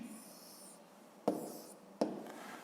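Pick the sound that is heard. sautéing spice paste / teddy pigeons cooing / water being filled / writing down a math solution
writing down a math solution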